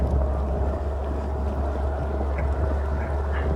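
A boat on a sea tour off Kerpe gives a steady low engine drone with rushing water and wind, continuous and fairly close throughout.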